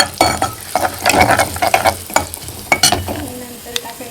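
A tempering of cumin, curry leaves and garlic sizzles loudly in a pan while being stirred, with busy scraping and clattering strokes over a crackling hiss, close up and with no voices.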